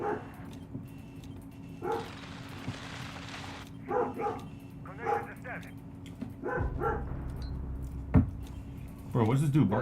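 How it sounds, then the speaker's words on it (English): A dog barks and yips in a few short bursts nearby, mixed with a person talking and game sounds in the background. "probably because my fucking dog's barking"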